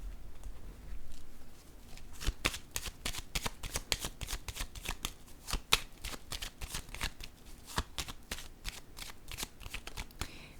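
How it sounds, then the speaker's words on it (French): Playing cards slap and riffle onto a table during a card reading, a quick series of crisp close taps and flicks, fairly quiet, with no voices. "Je vais déposer une autre carte ici."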